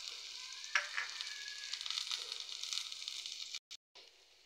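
Finely chopped garlic and a cup of onions sizzle steadily in a pan, a close, even crackling fry with a few stirring clicks before it briefly cuts out near the end.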